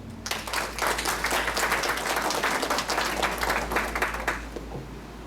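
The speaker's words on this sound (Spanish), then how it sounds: "También lo recibimos con un fuerte aplauso." Loud audience applause welcoming a speaker at a legal lecture, a dense steady burst of clapping from a room full of people over a low hum, fading slightly at the end.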